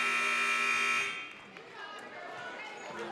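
Loud electronic buzzer sounding at a women's college basketball game against Montana Western, a sustained harsh tone lasting about a second before cutting off into arena crowd noise.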